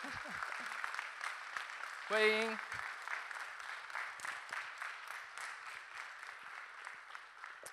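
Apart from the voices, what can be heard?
audience applause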